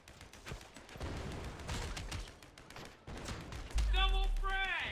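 Video game gunfire crackles in quick, fairly faint bursts for several seconds, followed by a brief tonal in-game effect near the end.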